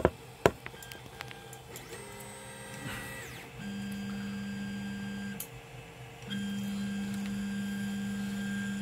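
Ender 3 3D printer with a BLTouch probe auto homing, stepper motors humming and whining in sustained tones between a few sharp clicks and taps, close and quiet, no voices.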